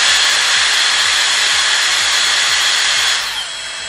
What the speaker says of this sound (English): when I switch this on, it will just run a blast of air through to clean the machine